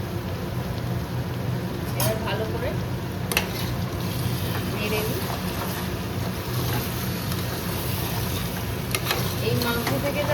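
Meat for a chicken recipe fries and sizzles in a pan while being stirred, a steady close crackle with occasional clanks and scrapes, with a voice speaking over it at times.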